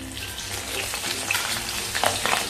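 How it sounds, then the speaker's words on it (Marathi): Green chillies frying in hot oil in a pan for cornflakes chivda, a continuous close sizzle with small crackles and stirring noises. "आता ह्या मिरच्या तळून घेऊया"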